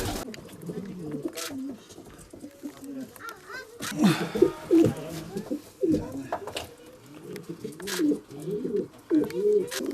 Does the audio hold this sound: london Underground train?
no